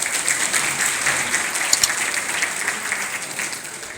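An audience claps steadily and loudly for several seconds at a Ranchi Association gathering marking Jharkhand Foundation Day and Bhagwan Birsa Munda's birth anniversary, with no voices rising above the applause.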